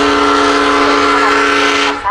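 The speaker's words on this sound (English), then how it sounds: "The little train is routed onto the station track for its stop here." A SunRail commuter train sounds its loud, sustained horn up close as it arrives at DeLand station on the Florida A Line, the long steady blast cutting off after about two seconds.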